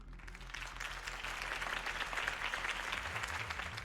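Crowd applause after Harvey Dent's campaign speech in the Telltale Batman video game, a continuous broad wash of clapping from a large gathering, steady and full with a low rumble beneath.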